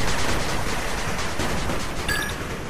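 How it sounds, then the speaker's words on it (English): Rapid gunfire from ground turrets in the 8-Bit Armies strategy game forms a dense, continuous rattle of shots, loud and sustained, with no voices over it. "A ground turret."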